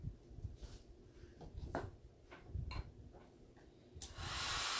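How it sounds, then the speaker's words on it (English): A blow dryer on its cool setting starts up near the end, a steady close airy roar, after soft handling sounds during chalk transfer crafting. "I can use the cool setting on the blow dryer just to quickly dry it"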